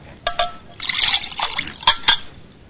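Water is poured and trickles into a glass in a radio drama, close and clear, with a few brief clinks and splashes around a short pour and no talking.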